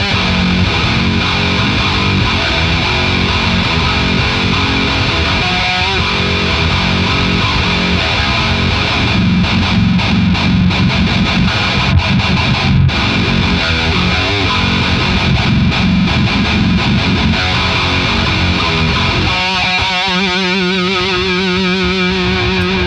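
Heavy, distorted Legator Ninja six-string electric guitar played through Bare Knuckle impulse responses, with dense chugging riffs that stay loud and unbroken throughout and turn to a tighter, choppier pattern near the end.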